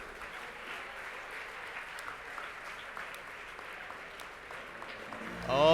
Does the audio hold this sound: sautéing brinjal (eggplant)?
no